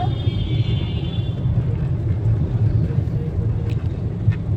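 A car cruises along with a steady low road and engine rumble heard from inside the cabin, moderately loud and continuous, with faint higher noise early on and no clear voices.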